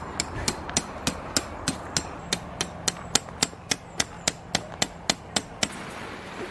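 Steady hammer strikes on a tent peg at a summer campsite by a lake, about three per second, sharp and evenly spaced, close and clear over faint outdoor background.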